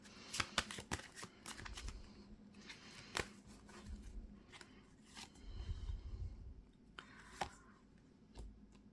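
Someone shuffles a deck of cards up close, producing quiet bursts of crisp riffles and soft slaps in an irregular rhythm. No one speaks.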